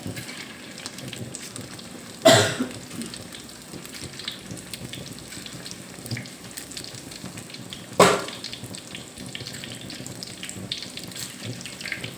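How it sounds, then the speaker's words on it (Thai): Fish cakes made from king mackerel frying in oil that is not very hot: a steady crackling sizzle throughout, with two louder sharp spurts, as if fresh pieces were dropped into the pan. "มาทอดกันเลยเหลืออีกครึ่งนึง ทอดไปเลยเบาเกไปเลยแห ไม่ต้องเอาน้ำมันจนร้อนจัด"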